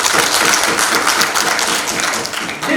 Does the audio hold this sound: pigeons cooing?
no